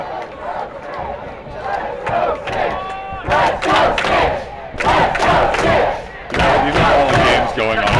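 Stadium crowd at a quidditch world cup final cheering and roaring in repeated loud surges, rising and falling over several seconds with bursts of shouting.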